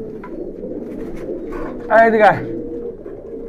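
Large Kaldom pigeons cooing in a loft, a short burst of throaty coos rising clearly out of a steady murmur of other birds, with someone speaking nearby.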